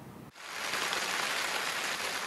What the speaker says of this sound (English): Nice, hard, soaking rain, no thunderstorm.